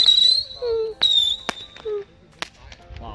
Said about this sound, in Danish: Hyldebatteri, 100 skud.